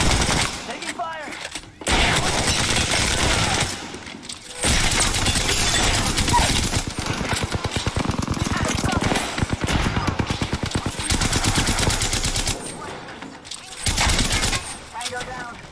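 Sustained bursts of automatic gunfire from a team shooter video game, loud and dense, with short pauses between volleys and shouted callouts over the shooting.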